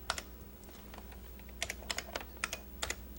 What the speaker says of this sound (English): you're using a standard AT keyboard plus your paint pad